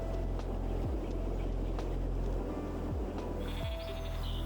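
Sheep bleat on rolling green hills in Wales, several wavering calls standing out over a constant low engine-like drone, with faint higher chirps near the end.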